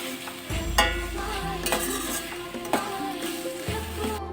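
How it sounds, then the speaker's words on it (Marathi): Vegetables, including capsicum, fry in oil in a pan for pav bhaji while a spoon stirs them. A steady sizzle runs underneath, with repeated scraping strokes and occasional clinks of the spoon against the pan. "आता याला आपण मिक्स करून घेऊया इथे मी तेल यूज केले"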